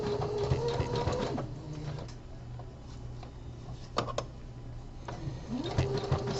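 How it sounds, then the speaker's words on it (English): A home sewing machine stitching long straight seams on knit boxer brief side panels, with a rapid mechanical chatter that runs, slows briefly with a few clicks, then resumes, close and clear with no talk. "Doing these long straight stitches on the side panels"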